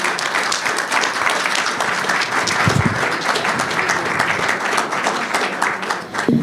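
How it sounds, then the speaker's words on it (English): A conference audience applauds steadily and loudly throughout, a dense wash of many hands clapping with no voices standing out. "Can we have a big round of applause for this tzaddik?"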